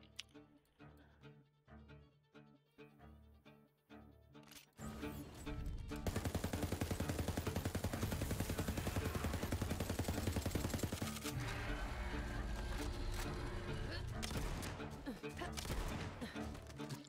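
SMG fire in the Borderlands 3 looter shooter rattles in a long continuous burst of rapid shots after a few seconds of rhythmic game music, with the shooting holding steady and loud to the end.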